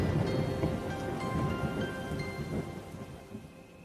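Cartoon rain pours steadily while rolling thunder rumbles through it, a dense hiss of drops over deep booming swells that slowly fade, with no voices.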